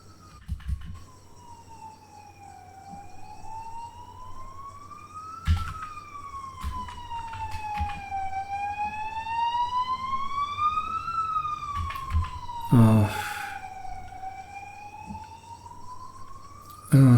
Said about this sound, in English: that ambulance distracted me for a bit